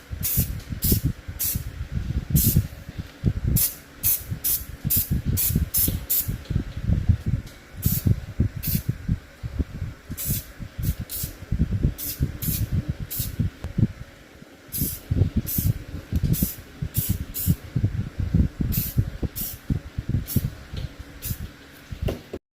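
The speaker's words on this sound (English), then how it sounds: "I'm going to spray some dots on here" Spray paint from an aerosol can applied in dots onto a glitter tumbler, many short, sharp hissing bursts in irregular rhythm with brief gaps and faint rattles and handling noises between them.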